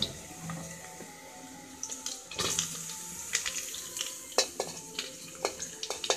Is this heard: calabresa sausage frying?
yes